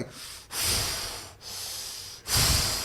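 A man imitates Darth Vader's heavy mechanical breathing, making three long, loud, hissing breaths, inhale and exhale alternating closely into the microphone.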